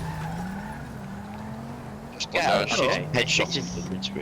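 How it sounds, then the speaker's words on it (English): Video game car pulling a handbrake turn, with a burst of tyre skid and squeal rising over a droning engine midway through, while voices talk over the game sound. "he's just on a handbrake turn"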